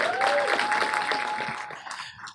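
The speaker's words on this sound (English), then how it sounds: "Let's just give a big round of applause for you guys." An audience at a SXSW 2018 talk applauds, a brief burst of dense clapping that fades out over about two seconds, with a faint tone running beneath it.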